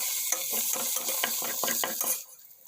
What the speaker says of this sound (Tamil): அடுத்து புதினா கொத்தமல்லி நல்லா போட்டு அதுவும் நல்லா மிக்ஸ் பண்ணிக்கோங்க